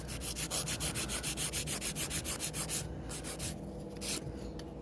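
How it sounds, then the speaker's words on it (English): A Crystal Nails Extreme file rubbing across a nail, close and quiet, in rapid even back-and-forth strokes for about three seconds, then slower, sparser scrapes. "So I'm just going to be using a Crystal Nails Extreme file."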